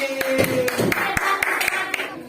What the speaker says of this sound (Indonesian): Tepuk tangan kepada Cici.